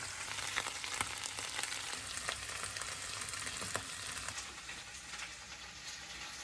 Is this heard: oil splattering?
yes